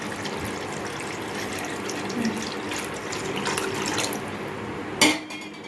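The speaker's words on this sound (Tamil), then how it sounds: "இப்போ நான் வந்து தண்ணி அளந்து வச்சுக்கிறேன்." Water poured into a pot for semiya vermicelli kichadi in a home kitchen, a steady continuous stream running for several seconds, ending with a sharp clink of metal or glass.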